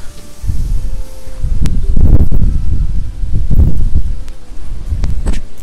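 Wind gusts outdoors in a UK garden with koi ponds, a loud, continuous low rumble of buffeting air swelling and easing in repeated surges, with faint rustling on top and no voices.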